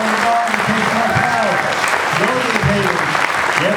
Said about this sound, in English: let's give a round of applause to Anthony